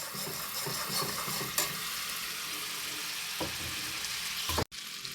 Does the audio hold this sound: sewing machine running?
no